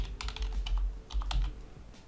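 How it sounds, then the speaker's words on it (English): Quick, uneven keystrokes tap on a computer keyboard as a password is entered, in two short bursts of clicks heard up close without any talk. "So what you need to do now is to type the password that you have set on the router"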